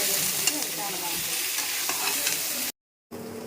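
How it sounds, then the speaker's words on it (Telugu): Paneer cubes frying for a masala curry give a dense, continuous sizzle with scraping stirs, close and fairly loud, before cutting to silence briefly near the end, then resuming. "పన్నీరు ఫ్రై అయిపోయింది."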